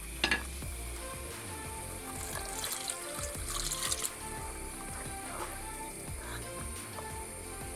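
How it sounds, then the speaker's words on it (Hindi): Water goes into a pan of fried masala for a Goan pomfret fish curry. A sharp sizzling hiss settles into steady bubbling and frying, close and fairly loud, with no one speaking. "मैं थोड़ा पानी डाल लेता हूँ इसमें।"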